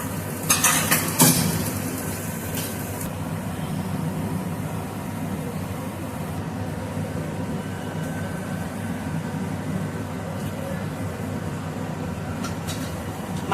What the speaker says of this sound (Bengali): মশলাটা আমার কষা হয়ে গেছে ভালো করে এবার আমি মাংসগুলো